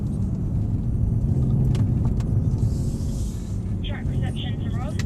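A Mercedes-AMG C63 on a racetrack gives a steady low engine rumble from inside the cabin, with a person talking over it.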